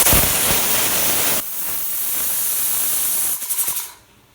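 A pressure cooker cooking country chicken gravy vents steam in a loud, steady hiss that weakens, sputters briefly in a few bursts, then cuts off.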